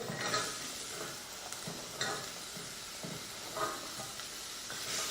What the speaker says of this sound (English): turn down the heat. Whoa! Add the sweet potato.